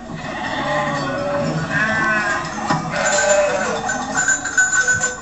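Flock of sheep bleating repeatedly at close to moderate range, several animals calling over one another against a steady background murmur, with faint bell-like tones mixed in.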